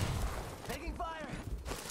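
Rapid gunfire bursts from a first-person shooter video game fill the clip, heard steadily under a player's voice.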